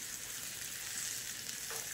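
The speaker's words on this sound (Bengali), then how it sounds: "মশলাগুলো আমার হালকা করে ভাজা হয়ে গিয়েছে" Spices fry lightly in a hot pan, giving a brief, soft, even sizzle with faint crackles and no talking.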